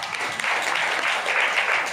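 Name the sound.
audience applause for a poem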